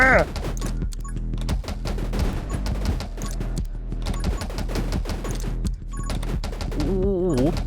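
Rapid gunfire from the survival shooter 10 Minutes Till Dawn, bursts of sharp repeated shots over a steady game music bed, with a short electronic warble near the end.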